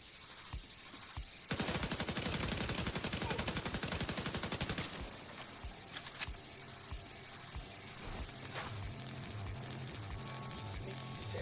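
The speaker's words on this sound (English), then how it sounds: "The minigun!" Minigun fire in The Division, a dense rapid burst lasting several seconds, followed by scattered gunshots and game effects.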